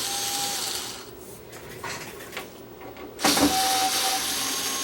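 A Torx bit backs Torx screws out of the casing of an Arcam AVP700 with a close, quiet whirring grind and brief scraping rubs, ending in a louder burst of driver noise.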